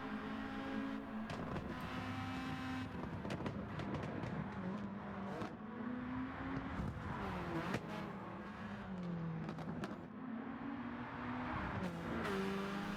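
The Amemiya Mazda RX7 rotary engine screams under sustained full throttle on the Nordschleife in Gran Turismo 7, pitch climbing through the gears with brief dips at each shift, loud and continuous with no talk.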